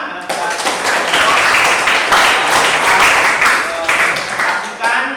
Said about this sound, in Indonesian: sudah anak saya akan beri tepuk tangan untuk kita semua